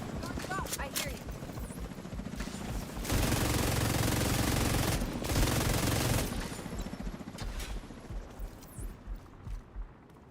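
Sustained automatic gunfire from the player's weapon in The Division 2, a dense rattling burst that swells loud midway and then breaks into shorter spaced shots, mixed with game effects and speech.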